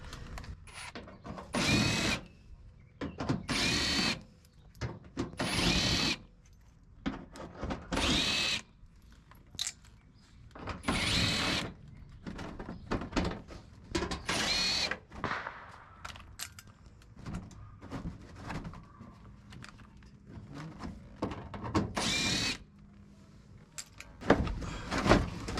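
Power drill with an 8mm socket backing out inner fender well fasteners on a 2020 RAM 1500 during a lift kit install, in repeated loud whirring bursts of a second or two, separated by brief pauses, close up.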